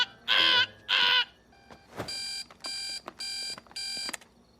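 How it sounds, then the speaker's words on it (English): An alarm clock in the animated film My Little Pony: Equestria Girls – Legend of Everfree rings in four even electronic bursts with short gaps. Two louder buzzing blasts come first, then a sharp hit. "Don't you have a super annoying alarm clock that goes"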